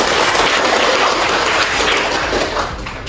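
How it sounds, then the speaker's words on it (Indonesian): A classroom group applauds Lina's group in steady, dense clapping that lasts about three seconds and fades slightly at the end. "beri aplaus kepada kelompok Lina"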